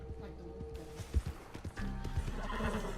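A horse in the Western video game Red Dead Online whinnies and clip-clops along, with hoofbeats growing steadier and louder toward the end while a player talks over the game sound.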